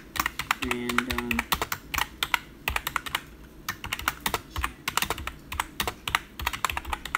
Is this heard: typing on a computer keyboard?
yes